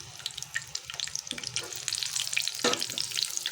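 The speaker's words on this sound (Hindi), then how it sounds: "बघार लगाते हुए मैंने इसके अंदर जैसे ही मेरा लहसुन फ्राई हुआ था" Steady crackling sizzle of chopped garlic frying in hot oil for a dal tempering, close and continuous, with a brief louder burst of spattering partway through.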